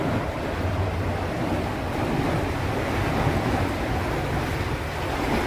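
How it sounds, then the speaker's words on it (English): Water gushing through a partly opened canal lock gate, a steady dense rushing wash with wind buffeting the microphone, loud and continuous, no voices. "That lets the water slide through just a little bit. You can see it's gushing through."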